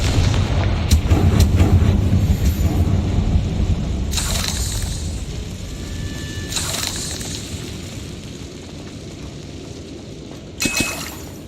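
A Confringo blasting spell in a Harry Potter video game goes off as a booming explosion, followed by a long rumbling roar that slowly fades. A few sharper blasts and crackles break through later.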